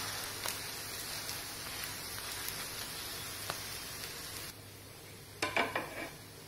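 Makki methi paratha frying on a hot griddle gives a steady low sizzle throughout, with occasional light clicks of a spatula and a brief cluster of louder scraping taps near the end.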